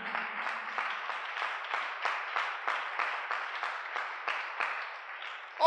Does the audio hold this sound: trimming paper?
no